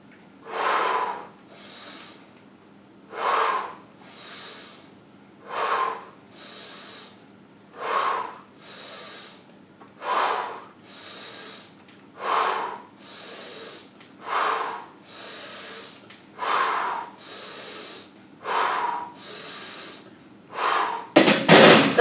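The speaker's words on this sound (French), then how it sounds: "J'inspire." Forceful, rhythmic breathing during close-grip bench press reps, about a dozen loud, close exhalations at even intervals, ending in a clatter as the bar is racked.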